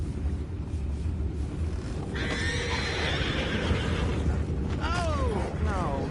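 Horses in the Red Dead Redemption 2 video game neigh and whinny over a steady rumbling game ambience, with several rising and falling calls near the end.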